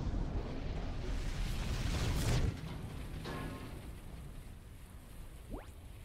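An extractor blows up in Starlink: Battle for Atlas with a deep rumbling explosion, a sustained roar that cuts off abruptly midway and then a fainter burst and a short rising whoosh follow.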